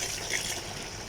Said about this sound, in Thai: นี่คือน้ำน้ำเปล่าอีก 6 ลิตรนะครับผมเทเข้าไปก่อน